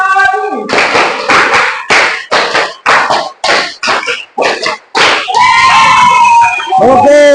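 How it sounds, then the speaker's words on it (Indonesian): A classroom group claps hands in a rapid series of about ten sharp, loud bursts. Voices then speak and sing over the last couple of seconds. "tepuk tangan dulu ya"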